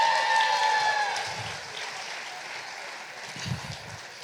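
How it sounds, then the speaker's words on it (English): An audience applauds at a magic show, a burst of clapping that starts fairly strong and then fades over a few seconds, heard at some distance. "Give him a round of applause."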